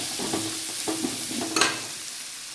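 Onion, tomato, ginger, garlic and masala powder frying together in a pan for egg rice, a continuous close sizzle broken by rhythmic scraping stirs and one louder clatter near the end.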